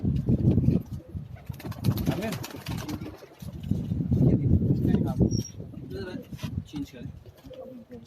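Rooftop pigeons in Karachi coo softly among wing noise after a group of four takes off together, with someone talking over most of it.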